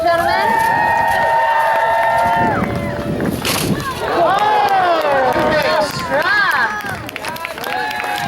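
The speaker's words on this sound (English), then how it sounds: "Let's cheer them on, ladies and gentlemen." An outdoor audience cheers and claps during a jousting tournament as knights ride at each other, loud, steady crowd noise mixed with an announcer's voice over a public address system.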